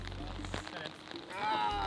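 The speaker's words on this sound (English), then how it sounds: "The rain is coming down now as well." Rain falls on a golf course in a steady, soft patter that runs through the whole stretch, mixed with other faint background sounds.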